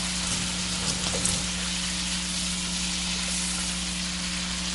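Shrimp for shrimp scampi sizzle steadily in a hot pan, a continuous close frying hiss with a low steady hum underneath and no talking.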